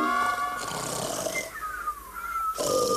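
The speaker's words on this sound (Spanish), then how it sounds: "Roncan como un tren de mercancías." Cartoon characters snoring in a jail cell, several loud, drawn-out snores with whistling tones overlapping in rhythmic waves, with no talk.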